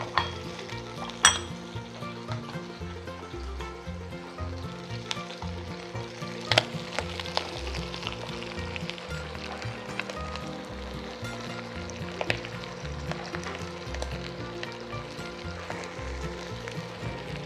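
Onions and ginger fry and sizzle in a pan, a close, busy crackle with the occasional clink of a utensil against the pan.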